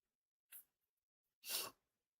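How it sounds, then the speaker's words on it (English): Two sneezes, close and fairly loud: a short one followed about a second later by a longer, fuller burst, with silence around them. "Not sure what my sneezing problem is today."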